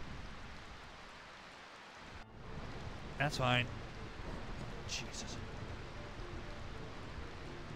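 Steady rain falling in the role-playing game Final Fantasy IX, a soft continuous wash of drops that swells after a brief lull, with short speech and a faint chime over it.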